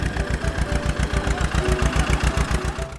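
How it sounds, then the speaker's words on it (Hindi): A tractor engine idles steadily at close range with a regular low chugging pulse, a plain mechanical rumble and no voices. "वो ट्रैक्टर आकर एक खाली जगह पर रुकी।"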